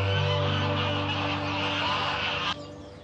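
Geese or ducks honking and calling in a Valencia city garden, a steady harsh cackling chorus with a low droning tone beneath that cuts off sharply near the end.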